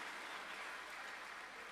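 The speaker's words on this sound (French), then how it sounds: "Mais bien sûr, il faut applaudir." A crowd at the ILO Centenary Global Tour event in Antananarivo applauds. The faint, continuous hiss of many hands clapping holds steady through the short stretch, with no talking.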